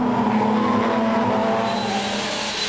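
Race cars in a tightly packed qualifying heat roar past together, a loud continuous engine drone with tire squeal mixed in, close and steady throughout with no speech.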